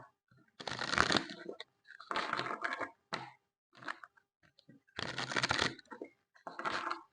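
Tarot cards being shuffled by hand in several quick bursts separated by short pauses, crisp riffling and rustling up close at moderate volume, with no talking.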